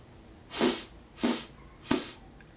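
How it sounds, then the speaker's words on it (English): Three quick, sharp sniffs of air through the nose during circular breathing practice, evenly spaced about half a second apart, close and fairly loud. "You want to take it as soon as you start to squeeze your cheeks. Sniff of air."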